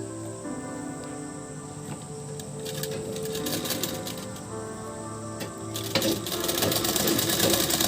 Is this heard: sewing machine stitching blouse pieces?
yes